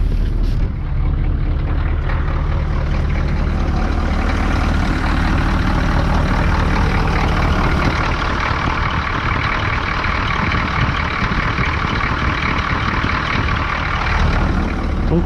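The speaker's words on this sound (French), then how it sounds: "la voiture démarre. On va vous faire écouter ça un peu" A car engine idles steadily just after restarting in 10-degree cold, a close, constant low rumble with a faint high whine that stays even for the whole fifteen seconds, with no talking.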